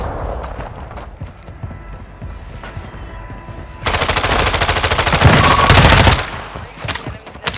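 Sustained loud automatic gunfire in Call of Duty Warzone on Ashika Island, a dense rapid rattle lasting a few seconds after quieter scattered game sounds and footsteps, with no talk over it.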